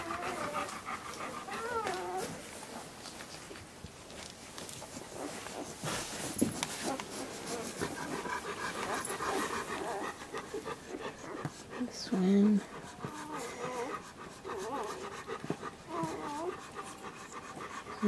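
Newborn puppies with their mother dog, heard as close, rapid panting and faint high whimpers that run throughout while a person talks softly over them.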